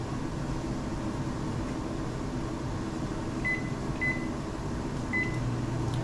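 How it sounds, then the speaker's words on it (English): A microwave oven runs on defrost with a steady, even hum, and three short, faint high beeps sound over the drone near the end. "Or I could just zap it in the microwave real quick on defrost."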